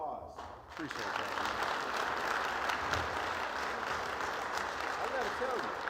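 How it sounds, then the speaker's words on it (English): Conference audience applause, a sustained even round of clapping from a sizable crowd that starts after a brief pause and continues steadily, with faint voices mixed in. "Let's get another round of applause."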